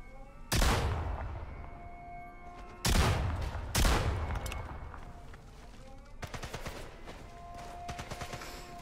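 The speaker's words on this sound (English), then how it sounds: "I'm shooting them with rock salt and then throwing grenades at them" Gunfire and grenade blasts in the video game Sniper Elite 5, with several heavy booming shots a second or so apart, followed by a rapid rattling burst near the end, loud against a quieter background.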